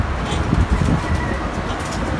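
Pigeons in a backyard loft, several birds calling together in a dense, continuous murmur of low cooing and soft coos, fairly close and steady throughout.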